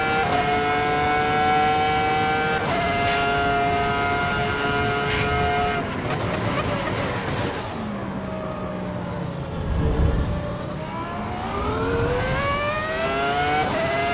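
A V10 race car engine in the racing game Assetto Corsa Evo screams through rising and falling revs across gear changes, loud and continuous with a brief lower rumble mid-lap.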